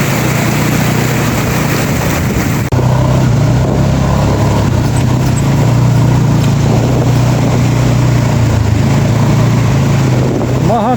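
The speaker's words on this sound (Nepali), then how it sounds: "हाम्रो बाइक यस्तै तरिरहेछ।" Motorcycle ridden off-road on a rough track toward a hydropower site in Solukhumbu, with a steady, loud engine drone and heavy wind rumble running the whole way, a brief jolt near the start.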